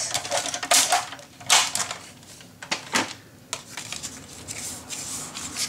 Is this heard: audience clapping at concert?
no